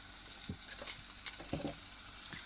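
Organic tomato juice poured into hot chili oil with onion and garlic for a quick tomato sauce, hissing and sputtering in a steady sizzle with a few louder pops and stirring scrapes, close and alone.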